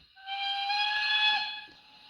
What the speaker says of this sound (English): Number 4 is a short whistle.